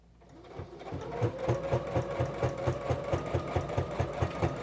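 A sewing machine stitches slowly through layered apron fabrics, spinning up from quiet into a rhythmic mechanical chatter of evenly spaced needle strokes, close and alone.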